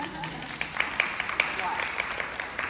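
A room of staff at a hospital employee town hall meeting gives a short burst of scattered applause, moderately faint and sounding from across the hall.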